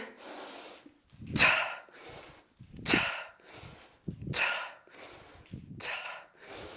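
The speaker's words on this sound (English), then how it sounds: "You can kind of hear my breathing pattern" Heavy rhythmic breathing during kettlebell swings at home: a sharp forceful exhale comes roughly every one and a half seconds, with softer inhales between, close and clear, four strong breath cycles in all.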